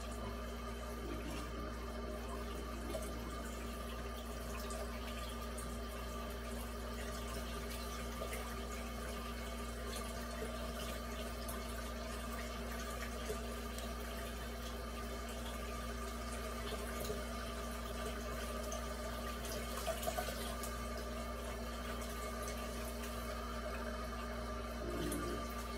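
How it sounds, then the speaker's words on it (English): A kitchen tap runs steadily for the whole stretch while the water is left to heat up, making a constant rushing hiss with no pauses and no talking. "Except the water takes forever to heat up."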